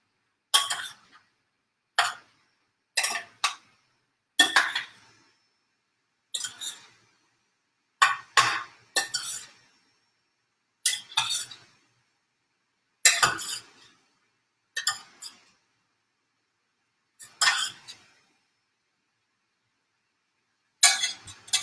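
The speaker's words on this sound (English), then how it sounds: "I'm going to take a quick break and stir our veggies over here" Vegetables are stirred in a pan for kimchi fried rice, with a spoon or spatula striking the pan in short, clattering clinks that repeat at irregular intervals with quiet gaps between, close by.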